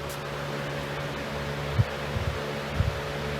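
Small electric fan powered from a solar panel through a buck converter and inverter, running at its highest speed setting, a steady low whirring hum with a few faint bumps and rustles.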